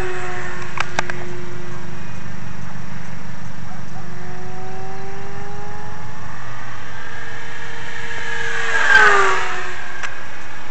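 A Dynam Spitfire RC model plane drones steadily overhead, then makes a close, rising-and-falling flyby pass near the end, loud against faint outdoor background.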